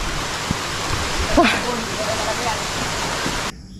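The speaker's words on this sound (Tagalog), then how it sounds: "Oh, yan ang ulan." Steady rainfall hisses continuously at moderate loudness, with a faint voice briefly rising in the middle, before the sound cuts off near the end.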